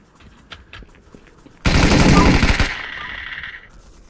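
Loud, dense burst of rapid automatic gunfire from a VR shooting video game, lasting about a second and fading into a ringing tail, after quieter scattered sounds.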